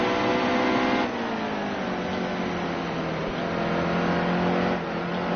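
Race car engine at a NASCAR event, a steady loud roar with a strong drone that shifts pitch slightly as it runs, fairly close and continuous throughout.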